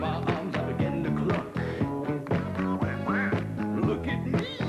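Duck quacks from a novelty disco song, a nasal quacking voice over a bouncy music track with a steady beat, loud and continuous throughout.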